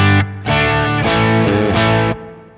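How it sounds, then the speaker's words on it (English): An electric guitar rings out through a Sonicake Matribox 2 amp and cab model with light overdrive, a few sustained chords and notes played slowly, warm and slightly gritty with reverb. "Just an amp, a cab, a little bit of drive on the front end, and some reverb"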